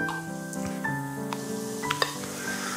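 Chicken pieces fry in hot oil for chicken à l'orange, a steady close sizzle with tonal hissing and a few sharp spatters and clinks, no talk.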